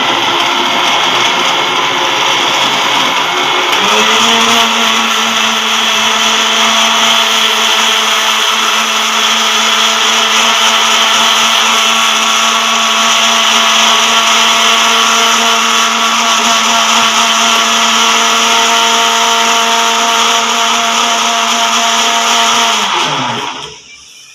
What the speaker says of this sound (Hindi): उसके बाद हम इसको ग्राइंड कर लेंगे।